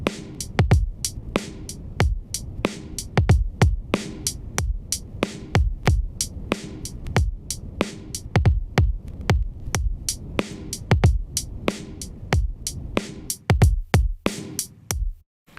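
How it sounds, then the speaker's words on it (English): Lo-fi vinyl plugin effect with added wear and dust, producing a steady stream of sharp percussive clicks and crackles over a low throbbing hum, rhythmic and close, with no talk. "we can also maybe add a little bit of wear, and it might be a cool idea to add some dust because it's almost percussive in a way. Some clicks."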